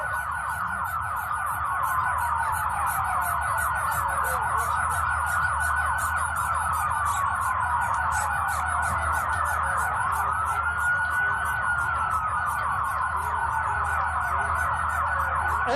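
Emergency vehicle sirens wail at a street protest, a continuous, piercing rising-and-falling tone repeating in slow sweeps over a low rumbling background, loud and sustained without talk.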